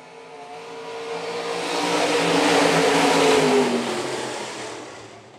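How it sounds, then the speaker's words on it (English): IMCA Sunoco stock cars racing around a dirt track, engines accelerating out of turn four in a rising, roaring pass that swells loud and then fades as the pack goes by. "Underway for your stock cars."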